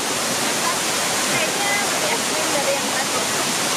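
Curug Kiara, a waterfall reached by a steep trail across a fast-flowing stream, roars as a steady, dense wash of falling water with no gaps, close and loud throughout.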